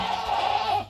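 A goat gives one drawn-out, wavering bleat, fairly close and clear, lasting nearly a second before trailing off.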